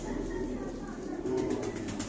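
Soft, low cooing of tumbler pigeons, a steady murmuring coo close by against a faint background hum.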